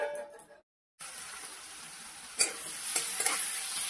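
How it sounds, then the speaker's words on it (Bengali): Sliced onion frying in a pan on a home stove while a Bengali fish curry is prepared: a soft, steady sizzle with a few scraping stirs, quiet and close, after a short silent gap. "এখানে পেঁয়াজটা আমি ভাজতে দিয়ে দিয়েছি"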